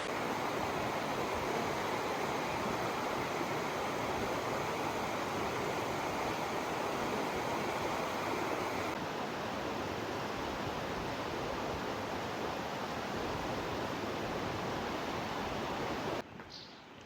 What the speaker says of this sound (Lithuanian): Šniokščianti kalnų upė